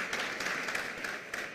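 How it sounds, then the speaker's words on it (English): Brief burst of audience applause at a tech conference session, dense steady clapping filling the whole moment without any voices. "A round of applause for me."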